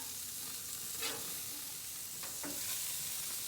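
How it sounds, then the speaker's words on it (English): Burgers sear in a hot pan just after being flipped, a steady close sizzle with a few brief scraping or stirring touches over the hiss. "I'm gonna check these burgers right now. Burgers are looking pretty good. They got a good sear. I'm gonna give them a flip."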